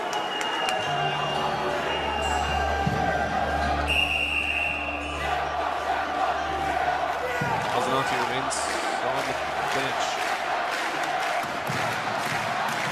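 Ice hockey fans of Luleå chant and clap during a late-game playoff push against Brynäs, a broad roar of rhythmic crowd noise filling the arena beneath a commentator's steady play-by-play.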